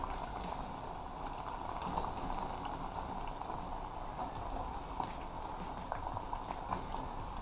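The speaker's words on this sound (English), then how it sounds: "So here's the rest frying off over here." Green plantains sizzle and crackle steadily in hot oil, a dense continuous frying hiss with scattered pops, close and without talk.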